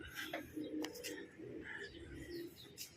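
Racing pigeons coo softly near the loft as birds come home from a 29 km training race in Jala-Jala, Rizal, with low repeated coos, a few faint chirps and light fluttering.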